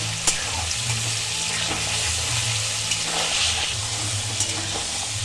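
Vegetables with tomato and salt frying in a pan for a cabbage and fish-head curry, a continuous close sizzle with a low steady hum beneath and occasional light stirring.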